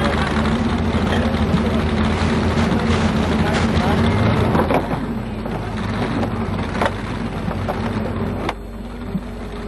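Rumpus, a big 2.4-ton limited modified class tractor, roars at a country tractor pull, its engine a loud, continuous, rough drone with wind buffeting and a slight drop in intensity toward the end as it pulls away.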